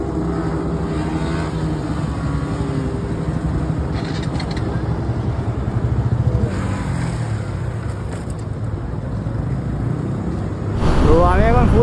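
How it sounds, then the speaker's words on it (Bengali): A Yamaha R15 V3 motorcycle on modified tyres held at full throttle around 108, giving a steady loud engine drone mixed with heavy wind roar, and a rising whine near the end. "তো আমি এখন ফুল স্পিডে বাইকটা টানছি"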